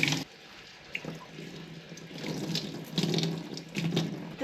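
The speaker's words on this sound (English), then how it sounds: "I am going to wash the hide with some Dawn dish soap" A rabbit hide being washed with Dawn dish soap under a running tap: splashing water, with intermittent bursts and drips as the hide is worked under the stream, fairly close and without voices.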